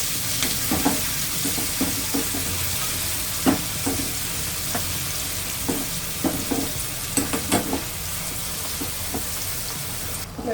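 Chutney poured into hot oil for tempering crackles with a continuous sizzle, punctuated by repeated spoon scrapes and light knocks as it is stirred.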